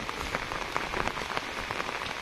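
Steady rain at Matheran, a hill station, patters down on a surface, a dense, even hiss of drops with occasional sharper splashes, fairly close and continuous throughout.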